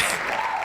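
Canned applause effect triggered from a button on a live talk show, a brief burst of crowd clapping at moderate level.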